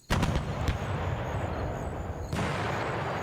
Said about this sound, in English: this regiment, the 72nd Field Regiment, will fire on this objective